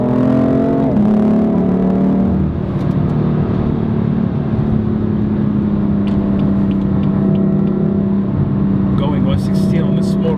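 BMW M4 LCI Competition with M Performance Parts driven fast on a small road, its engine droning loudly with rising and shifting tones, as if through gear changes, while someone talks over the cabin noise.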